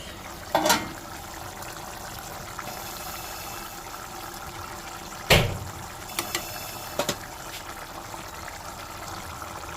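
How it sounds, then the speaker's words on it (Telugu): A pot of curry bubbles and simmers in a steady low hiss, punctuated by a few sharp clinks and scrapes of a utensil. "వాటర్ అంతా వేసిన తర్వాత చూడండి బాగా ఉడికిపోతుంది కదా"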